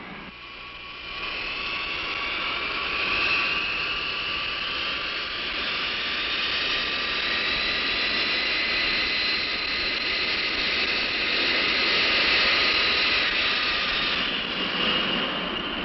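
Cargo aircraft jet engines give a continuous roar with a rising whine that swells and eases gently over sixteen seconds. The sound is dull and band-limited like old film audio, and no one speaks.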